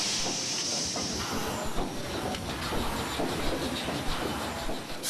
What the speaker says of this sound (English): Nothing more than the hot, wet exhaust of boiled water, channeled to push cylinders, pump shafts, and turn paddle wheels